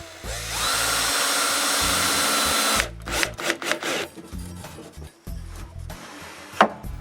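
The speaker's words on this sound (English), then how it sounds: "I screw one to the lower sash." A power drill drives a screw through a wooden mating rail strip into a lower window sash, with a loud steady whir of nearly three seconds followed by scattered knocks and scraping handling noises up close.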